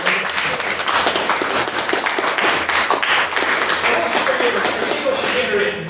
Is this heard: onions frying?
no